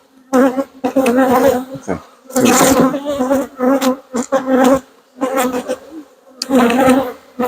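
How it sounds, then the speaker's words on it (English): Bees in a newly hived swarm inside a big bee hive buzz loudly and close by in pulsing, overlapping bursts, with one brief spoken word. "there's a good number of bees in here."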